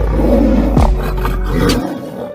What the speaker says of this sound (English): lion versus tiger.